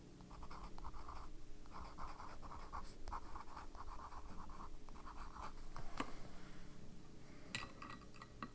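A pen writing with Birmingham Pen Company ink on paper, faint scratchy strokes in short bursts with a few light taps and clicks, quiet and close.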